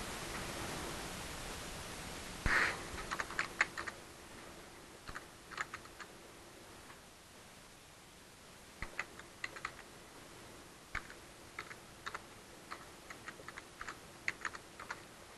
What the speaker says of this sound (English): I'll type in the URL for it